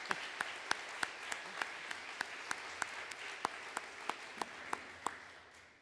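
Sparse, rhythmic clapping at a Chamber of Commerce luncheon, a handful of distinct sharp claps spaced at a steady pace over a quiet room, tapering off at the end.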